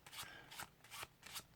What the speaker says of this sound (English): So now you shuffle however many you want to